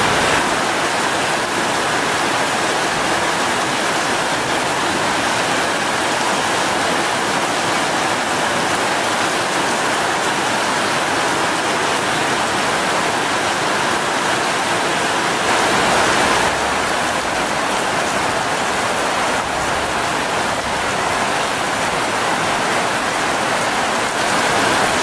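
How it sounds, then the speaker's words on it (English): Steady rain falls in a dense, even hiss that stays constant and fairly loud throughout, with no voices. "I think it's raining."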